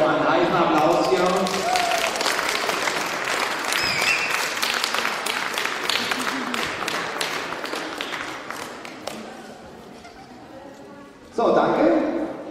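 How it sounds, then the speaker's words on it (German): Audience at a fencing tournament award ceremony claps loudly and steadily, the applause gradually thinning toward the end before a burst of talk from an announcer. "dann für unsere Einzelkämpfe nochmal einen heißen Applaus hier"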